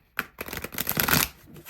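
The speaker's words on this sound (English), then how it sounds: "if I can shuffle" A small deck of slippery oracle cards being shuffled by hand, a burst of crisp riffling and flicking close up, swelling then settling, with no talk.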